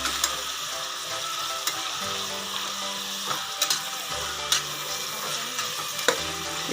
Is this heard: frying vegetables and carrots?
yes